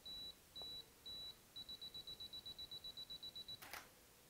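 A camera's ten-second self-timer beeps: three slow, evenly spaced tones, then a rapid run of short beeps speeding up just before a soft shutter click, faint and alone in a quiet room.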